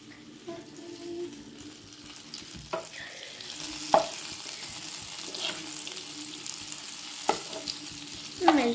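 Butter melting in a pan over a low flame, a soft steady sizzle that grows slightly louder, with a few sharp clicks and scrapes of a utensil against the pan.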